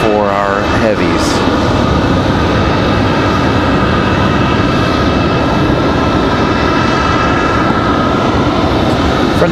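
A Frontier airliner on final approach at Raleigh-Durham International Airport gives off a loud, steady broadband engine roar that holds for the whole stretch, with a brief voice near the start.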